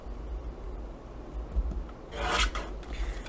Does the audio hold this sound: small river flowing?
no